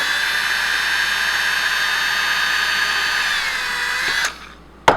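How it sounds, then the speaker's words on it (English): A power drill pre-drilling a hole in a small dresser whines loudly and steadily at high speed for about four seconds, then spins down, followed by a sharp clunk. "you want to go directly in the middle and pre-drill a hole"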